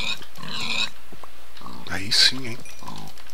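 Minecraft pig grunts and oinks come in a couple of short bursts while someone talks over them.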